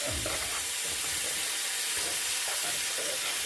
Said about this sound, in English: a little bit of milk, a little bit of flour. Then whisk it in